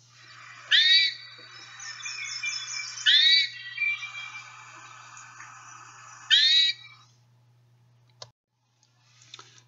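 Hermit thrush giving its towhee-like call, three clear rising notes spaced over several seconds amid other soft bird chatter in a quiet natural setting, with a steady low hum beneath.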